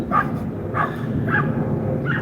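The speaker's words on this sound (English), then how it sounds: "There's a few dogs outside that I think they're okay now." Dogs bark outdoors, several sharp yips at roughly half-second intervals, moderately distant and fairly loud.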